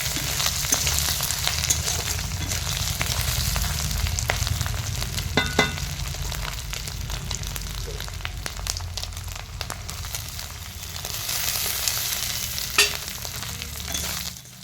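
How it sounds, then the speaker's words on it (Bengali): Onion, garlic and green chilli frying together with dried fish in hot oil, a steady loud sizzle with occasional stirring scrapes and clatters throughout. "এবার পেঁয়াজটা হালকা বাদামি কালার হওয়া পর্যন্ত অপেক্ষা করব।"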